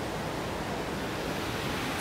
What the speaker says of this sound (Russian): Сейчас очень сильная река,